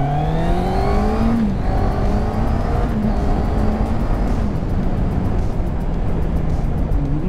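A QJMotor SRK 800 RR motorcycle accelerates in a throttle test, its engine note rising in repeated pitch sweeps and dropping between gear changes, loud and steady over wind rush with no talk.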